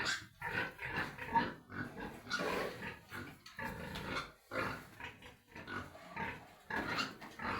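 A sow in heat grunting and snorting over and over, close and loud, in irregular bursts with brief pauses between.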